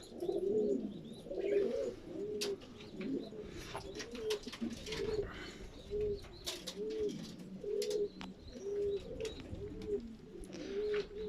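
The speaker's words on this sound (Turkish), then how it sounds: "Kümes çok, kuş da çok burada." Pigeons coo repeatedly in a steady rhythm, roughly once a second, close by, with faint chirps and rustling from other birds in the background.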